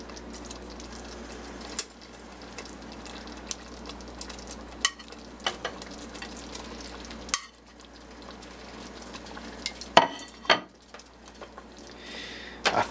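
BBQ ribs coated in beer-infused barbecue sauce frying in a pan with a steady sizzle, broken by occasional clacks and scrapes of utensils against the cookware.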